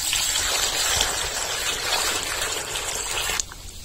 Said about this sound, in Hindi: गमला में पानी डाल दिए हैं, तो चलिए इसको बढ़िया से धो लेते हैं।